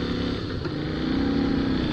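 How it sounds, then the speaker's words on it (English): A Moto Guzzi V7 Racer motorcycle engine runs with a steady low rumble that rises slightly in pitch toward the end, heard close and alone without talk. "absolutely gorgeous Moto Guzzi V7 Racer"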